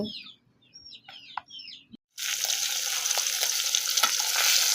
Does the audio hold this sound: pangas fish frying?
yes